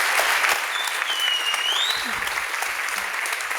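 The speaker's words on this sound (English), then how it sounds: "Can we just clap one more time?" An audience applauds at the end of a talk, a dense, steady patter of clapping that carries on throughout with a faint voice briefly over it.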